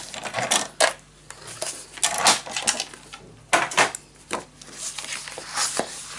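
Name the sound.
cutting paper booklet piece shorter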